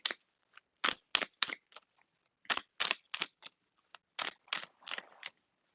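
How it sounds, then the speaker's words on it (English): Tarot cards are shuffled close up in a series of quick crisp riffles and snaps, each burst short and separated by brief silences, with no talking. "Let me shuffle the cards."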